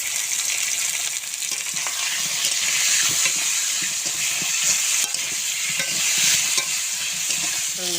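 Vegetables fry in hot oil seasoned with salt and turmeric, a loud continuous sizzle under a busy run of stirring scrapes and clinks from a spatula in the pan.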